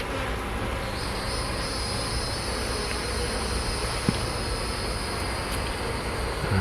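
Honey bees swarm over frames during a hive inspection in late May, a dense steady buzzing hum heard close up, with one brief knock partway through.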